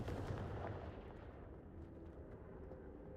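A Confringo fire spell in Hogwarts Legacy lands as a deep, booming blast that rumbles and then fades into a lingering low roar.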